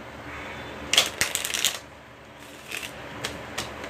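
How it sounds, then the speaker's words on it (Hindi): A deck of playing cards is shuffled up close in quick riffling bursts, followed by a few lighter flicks and taps against a quiet background. "और अब ये बचे हुए कार्ड्स है, इनको हम फिर से एक बार सफल कर लेते हैं।"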